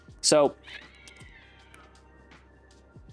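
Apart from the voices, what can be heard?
cat meowing loudly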